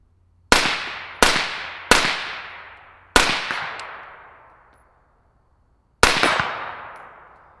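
Five sharp, loud shots of 5.56 rifle rounds with a Black Anchor Tactical Nautilus suppressor fired downrange into a dirt berm. The first three come in quick succession, then one more and a final shot after a pause. Each has a long ringing decay.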